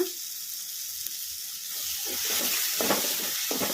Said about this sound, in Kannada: ಚೆನ್ನಾಗಿ ಎಣ್ಣೆಗೆ ಫ್ರೈ ಆಗಿದೆ ಈಗ ಇದಕ್ಕೆ ಒಂದು ಅರ್ಧ ಸ್ಪೂನಷ್ಟು ಅರಶಿನ ಪುಡಿ ಹಾಕೋಣ